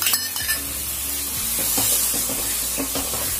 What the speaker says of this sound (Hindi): अब हमने जो इसमें अंडा फेंटा था वो हम इसमें डाल देते हैं